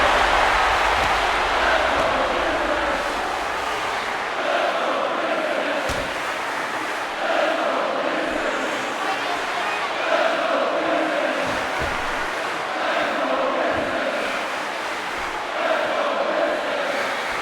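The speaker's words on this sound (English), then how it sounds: "I don't really know what the crowd in Toronto is saying" A crowd at a Toronto wrestling event roars and chants in a loud, continuous wash of massed voices that swells and dips slightly, with no clear commentary on top.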